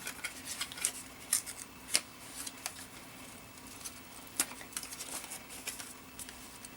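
Cut paper is picked and pulled out of an intricate metal cutting die, a sparse series of soft crinkles, ticks and light taps at close range, fairly quiet, with no talking.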